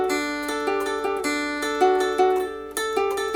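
A guitar plays the fast picked intro to a song, a steady run of clear, bright plucked notes in quick even rhythm, close and alone with no talking.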